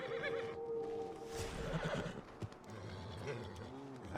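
A horse neighs in Red Dead Redemption 2 near a barn, a loud whinny early on followed by snorts, shuffling and a later shorter neigh, with some soft background voice.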